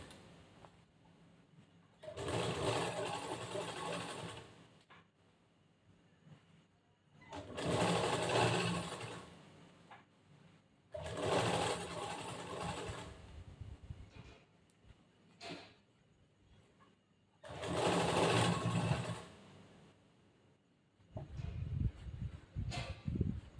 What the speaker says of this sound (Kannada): ಅದ್ರ ಮೇಲೆ ಡಬಲ್ ಹೊಲಿಗೆ ಹಾಕ್ಬೇಕು.